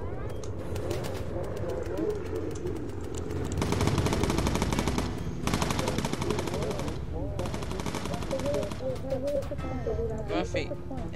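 Rapid machine gun fire rattles aboard a World War II style bomber in Bomber Crew, coming in dense sustained bursts over engine drone, with a voice talking over it.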